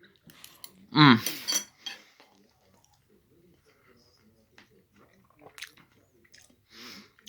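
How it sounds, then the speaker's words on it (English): Close, wet chewing of a bite of quiche, with a sharp clink of cutlery at the start and soft mouth sounds scattered through quiet stretches afterward. "Excuse me, I have to take a bite of this food."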